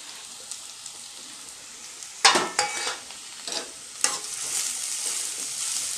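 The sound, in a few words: cut vegetables frying and stirred in hot oil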